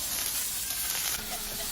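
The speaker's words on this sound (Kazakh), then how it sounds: "Тапаншамызды қыздырып, оның үстіне ұсақтап тураған пиязымызды салып қуыратын боламыз." Onions sizzling and crackling in a hot pan, a bright steady hiss with small pops, close and fairly loud.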